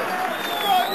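Crowd cheering at the 2001 World's Strongest Woman competition, a sustained roar of many voices across the moment with a faint whistle-like tone above, no distinct claps standing out.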